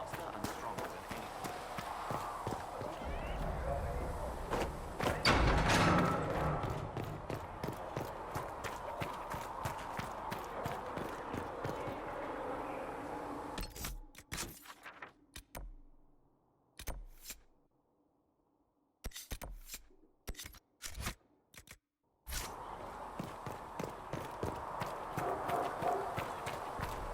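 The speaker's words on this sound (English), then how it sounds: "Master Dennett's horses in the hinterlands are faster and stronger than any" Horse hooves galloping across the hinterlands in the video game Dragon Age Inquisition, a steady rapid clip-clop with game music and ambience, broken by a near-silent gap midway before the hoofbeats resume.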